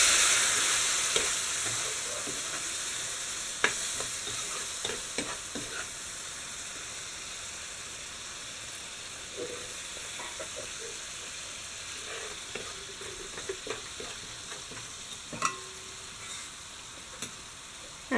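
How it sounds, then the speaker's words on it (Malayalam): Vinegar poured into frying masala in a pan for Kerala fish pickle, a steady sizzle with scattered crackles and stirring scrapes throughout, loudest at the start and easing slightly; no talking. "വിനാഗിരി ഒഴിച്ചു കൊടുക്കാം."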